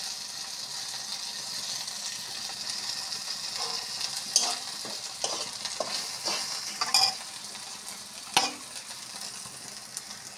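Cumin, turmeric, salt and chilli powder frying in a pan make a dense sizzle, with several clinks and scrapes from a stirring spoon rising above the hiss.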